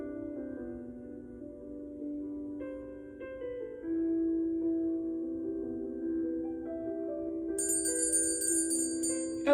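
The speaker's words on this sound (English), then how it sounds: "Oh, there was the bell." A school bell ringing to start class, a sustained chime-like electronic tone that shifts pitch and rings on for several seconds, steady and moderately loud with no talk.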